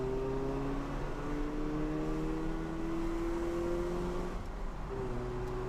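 A Mazda RX-7 convertible's rotary engine revs while driving on wet, wide hill roads, a steady close engine whine climbing slowly in pitch with a brief dip near the end, no voices.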